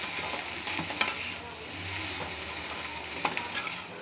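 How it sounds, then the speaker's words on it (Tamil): Okra sautéed in a pan sizzles steadily while a spatula stirs and scrapes it, with occasional metallic taps against the pan, heard up close with no talk. "வெண்டைக்காய் நல்லா வதக்கிடணும்"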